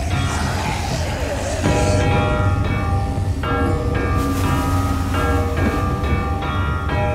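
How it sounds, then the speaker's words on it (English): A bell rings repeatedly in The Walking Dead: The Final Season game, its clear tolling strikes layered over rumbling background noise and music, loud and close. "Ring that bell, Lewis."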